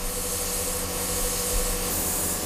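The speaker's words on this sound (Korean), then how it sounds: "공기 압축기에 연결된 스프레이로 페인트를 분사해 색을 바른다." A continuous, loud hiss of a compressed-air paint sprayer spraying paint onto furniture in a furniture workshop, steady and unbroken, with a low hum beneath.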